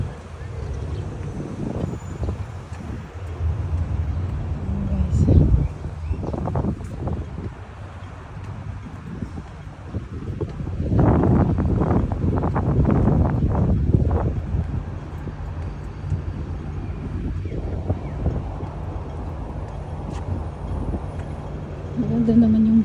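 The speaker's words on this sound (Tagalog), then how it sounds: "Maganda naman yung simoy ng hangin" Wind gusts buffet the microphone during an outdoor walk in Kowloon, swelling into a loud rumbling stretch midway, with city traffic noise and scattered talk underneath.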